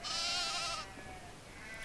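Sheep bleating in the 2008 video game Nancy Drew: The Haunting of Castle Malloy, a single wavering bleat that fades after under a second, leaving quiet game ambience.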